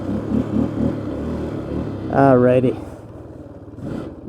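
Old ATV engine puttering, then a sharp rev as it accelerates through the gears, with someone talking over the engine.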